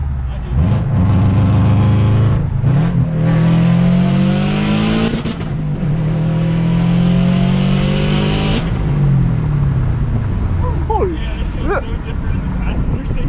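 A 380 WHP Subaru WRX STI's exhaust, heard from inside the car on a night drive: loud continuous engine drone rising and falling through revs, with a sharp lift-off around nine seconds and quieter idle afterward, voices murmuring beneath.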